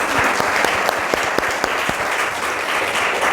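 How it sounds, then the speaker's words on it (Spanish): Congregation applause during a church service, loud and sustained, with a few sharp individual claps standing out from the steady roar of many hands. "Dele un aplauso al Señor."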